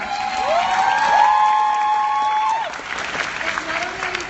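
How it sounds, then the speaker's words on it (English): A Comic-Con 2017 Supergirl panel audience applauds loudly and steadily, with whoops and cheering voices rising over the clapping throughout. "We get a round of applause for Odette,"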